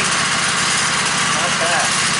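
A Woodmizer LT15 sawmill cuts white pine with a freshly sharpened blade, giving a loud, steady engine drone and an even blade whine that runs throughout.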